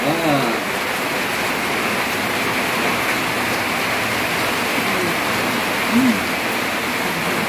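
Steady rain falls outdoors in Jaffna, a constant broadband hiss that fills the whole stretch, with brief voices heard faintly at the start and near the end.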